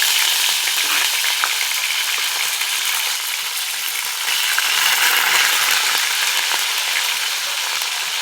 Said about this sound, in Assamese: মাছখিনি মই ভালদৰে ভাজি লম